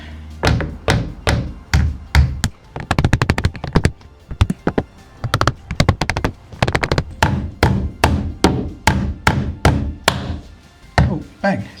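Wooden mallets strike log walls while cabin windows are fitted, a long run of sharp, hollow knocks, sometimes in quick bursts and sometimes in a steady beat, loud and close with no talking.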